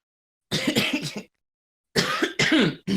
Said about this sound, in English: That's smoker's cough, people.